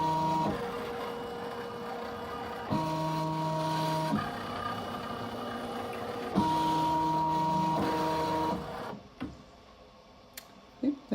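A Ricoma EM1010 embroidery machine moving a magnetic hoop gives off a steady mechanical whir with tonal motor hums that switch pitch in stages, close and continuous, before dropping away near the end.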